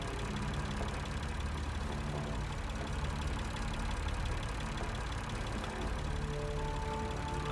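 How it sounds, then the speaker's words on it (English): Steady engine drone in the video game Lost Horizon, a continuous mid-to-low idling hum with a faint knocking texture, holding at an even level throughout with no voices. "Judging by the engine noise and the smell,"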